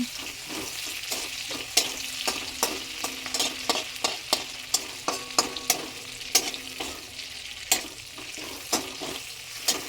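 Prawns fry in a pan with a constant bright sizzle, punctuated by regular sharp taps and scrapes of stirring, close and alone without speech.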